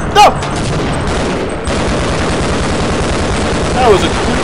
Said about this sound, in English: You just threw a freaking grenade at me!